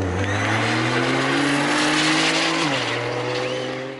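Modified passenger cars drag racing on a track in Kachug in 2010: a loud, close engine roars steadily at high revs, then the pitch drops sharply as the gear changes near the end before the sound fades slightly.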